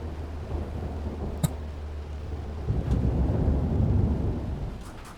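Thunder rumbles through a storm in the storm-chasing game Outbrk, a low rolling swell that builds in the second half over a steady background wash, with a sharp crack early on and no voices.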